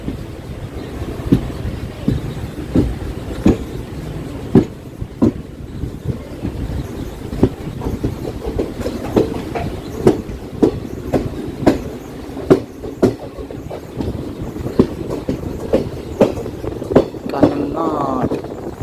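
An Intercity superfast express runs from Mangaluru to Coimbatore in Kerala, its wheels beating a loud, close clickety-clack over rail joints, with a brief wheel squeal near the end and talk faintly underneath.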